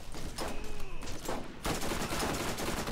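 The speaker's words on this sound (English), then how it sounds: "This is my medical shotgun." A medical shotgun fires in the co-op video game Borderlands, with a few sharp blasts followed by a sustained, dense barrage of game gunfire.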